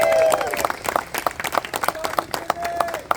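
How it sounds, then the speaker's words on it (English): A crowd at the Overland the Red 2023 event applauds Cindy and her crew, opening under a voice and then breaking into distinct, sharp individual claps that come close and loud, scattered and uneven. "Let's give Cindy and her crew another big round of applause"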